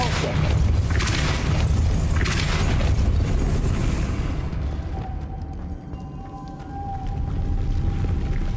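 A Depulso force spell cast in Hogwarts Legacy lands as a heavy, roaring magical blast, a dense rumbling wash that holds loud for several seconds, then thins to a lingering hiss and faint tonal whine before swelling again.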